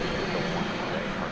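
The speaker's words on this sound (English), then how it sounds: "that plane behind it is very close. And so it went around as a result." A passenger plane going around at DFW Airport after coming in too close behind another aircraft, heard as a loud, steady, broadband engine roar that fills the whole moment with no break.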